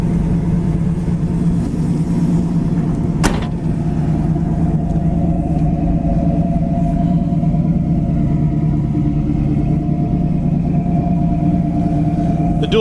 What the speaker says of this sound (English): The dual exhaust sounds beautiful on it.